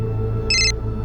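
A single short electronic telephone ring tone chirps briefly over a low steady hum, a quick bright trill lasting a fraction of a second.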